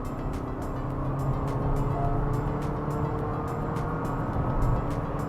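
Honda Elevate engine droning as the SUV is pushed to accelerate for overtaking: a steady, continuous hum with a mild whine, heard from inside the cabin with no talking.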